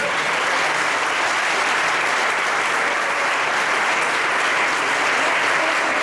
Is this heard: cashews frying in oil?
no